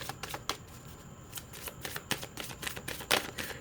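Tarot cards are shuffled close by in quick, crisp bursts of riffling and snapping, several rapid flurries in a row with no talking.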